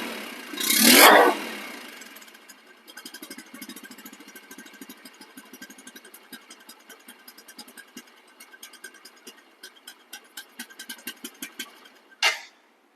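A used motorcycle engine idles close by with a smooth, even pulsing beat, opening with a loud rev and closing with a brief sharp burst, no talk.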